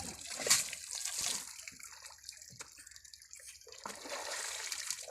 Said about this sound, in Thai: ก็จะสาดน้ำใส่ตัวก่อนนะฮะ